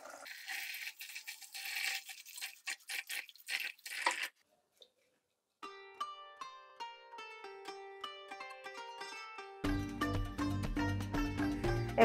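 Water is poured onto flattened rice (aval) in short splashing and dripping bursts. A brief silence follows, then clear tonal ringing sounds, and finally a steady, denser pouring noise until the end.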